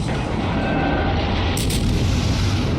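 Armor-piercing salvo from the main guns of a Tier IV American cruiser Phoenix in World of Warships, a sustained heavy booming rumble that fills the whole stretch with a sharper blast near the middle, loud and close, with no voices.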